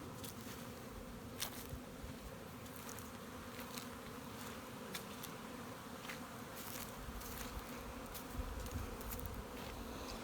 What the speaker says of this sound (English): There are bees there.